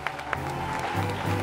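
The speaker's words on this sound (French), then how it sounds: "On va l'applaudir très fort." Applause from an audience at an awards show honouring a winner, a steady moderate patter of clapping hands under a low musical hum, with no clear voices on top.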